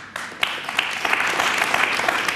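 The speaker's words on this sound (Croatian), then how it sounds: "Nemojte mnogo aplauza da nas neko ne pozove da se slušanjemo" Studio audience on a Serbian TV talk show breaking into applause, a dense, steady wash of many hands clapping that swells after a brief start and holds loud throughout, with no voices over it.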